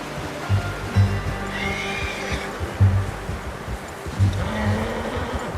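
A horse in a Red Dead Redemption 2 game scene gives several low, snorting neighs, repeating roughly every second or two over a steady outdoor wash of ambient sound.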